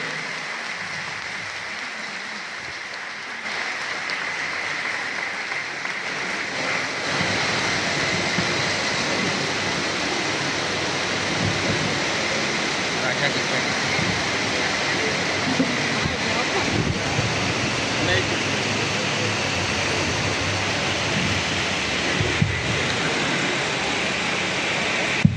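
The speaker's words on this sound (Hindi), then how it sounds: "और जोर से ताली बजा के स्वागत करेंगे।" Audience in a church applauding to welcome guests at a Sadhu Sundar Singh birth anniversary gathering, a broad, steady wash of clapping that swells after a few seconds and holds evenly throughout.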